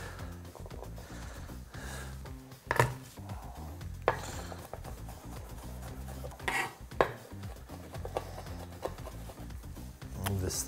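Garlic being chopped with a knife on a board while making spaghetti puttanesca, a steady run of close, soft knocking cuts with a few louder thumps.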